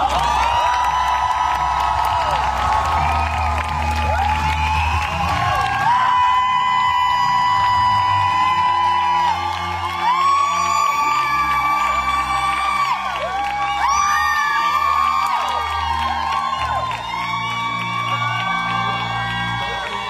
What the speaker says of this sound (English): Big applause, give it up for Infant Charlotte!